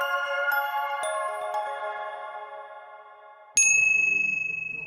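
Japanese-made English handbells ring out in a cluster of bright, sustained tones that slowly decay, then a single higher bell strikes loudly near the end and rings on.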